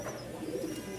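Domestic pigeons kept for sale, including long-faced and red-tail-marked males, give a soft, low coo that is brief and fairly faint against a quiet background.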